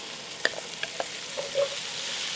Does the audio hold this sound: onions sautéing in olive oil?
yes